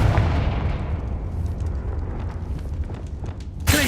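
Confringo fire blast spell from Hogwarts Legacy erupting in a loud, rumbling explosion at the start that slowly decays into a crackling tail, with a sharp new burst right at the end.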